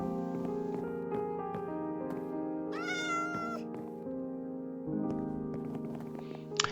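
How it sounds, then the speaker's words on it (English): A cat meows in the Minecraft video game, a rising tonal call around the middle of the clip over steady layered game music that plays throughout. "The farmers sleep, the cat meows."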